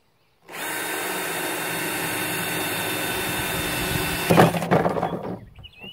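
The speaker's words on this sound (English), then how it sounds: "into the very center of our 4-inch PVC cap, and we're going to use that 3/8 inch drill bit on here" A power drill with a 3/8 inch bit bores through the center of a 4-inch PVC cap, a steady high whine starting abruptly, then a louder grinding burst as the bit breaks through before spinning down.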